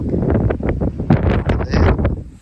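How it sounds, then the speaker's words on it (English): Strong gusts of wind blowing around beehives in autumn, heavy close rumbling buffets on the microphone that come in uneven pulses. "It's so windy."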